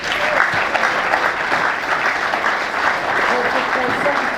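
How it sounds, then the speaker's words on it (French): An audience gives sustained, even applause, a dense crowd of hands clapping throughout, with voices faintly audible under the clapping. "sous vos applaudissements bien sûr."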